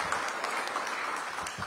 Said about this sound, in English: Give Anita Bonds a big round of applause